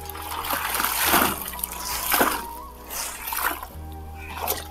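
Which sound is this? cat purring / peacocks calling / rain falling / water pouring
water pouring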